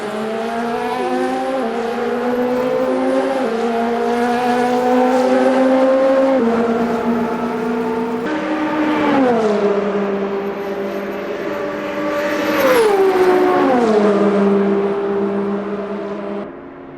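An LMP2 prototype race car in the Le Mans Ultimate racing game screams through upshifts on the Mulsanne Straight at Le Mans, then brakes and downshifts into the first chicane. The engine is loud, close and continuous, with pitch sweeps at each gear change.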